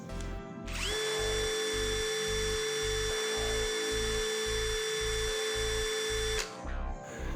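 A Nagawa NCB1021 cordless brushless drill in drilling mode runs steadily in second gear at about 1360 RPM, a loud sustained whine with a pulsing motor hum that starts abruptly and cuts off near the end.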